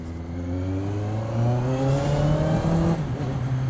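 A Kawasaki Z motorcycle accelerates close by, its engine note climbing steadily in pitch through the gears as a loud, continuous drone with no voices.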